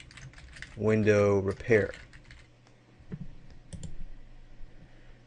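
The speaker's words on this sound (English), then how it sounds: "So what I can do is check that by going to Google and typing in Columbia, South Carolina" Fingers tap out a search query on a computer keyboard in quick bursts of close clicking keystrokes, with someone speaking over part of the typing.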